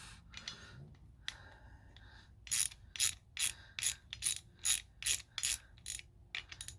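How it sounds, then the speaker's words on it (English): A ratchet loosens bolts on Honda Civic EK brake lines, with a few scattered clicks and then a rapid rhythmic series of about ten crisp ratcheting bursts, close and clear in a quiet space. "So I'm just loosening everything off right now, like these bolts."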